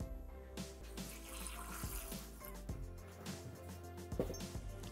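Water pours steadily into a Thermomix TM6 mixing bowl while making cauliflower soup, a close, continuous splashing trickle lasting several seconds with no talking.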